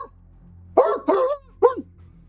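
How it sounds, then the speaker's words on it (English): A dog barks three times in a tabletop role-playing game session, short sharp yelping barks with brief gaps, close and clear over a quiet low hum. "You hear moving and barking."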